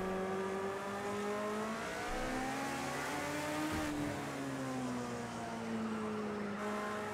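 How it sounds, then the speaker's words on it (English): A Group 5 race car engine in Project Cars 2 whines in rising and falling pitch sweeps, revving and shifting continuously with no voices. "I already hear his engine behind me."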